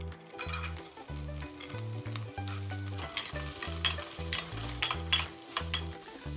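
Vegetables and brats sizzling on a grill, a soft continuous hiss with a few sharp crackles and pops later on, over steady low background music.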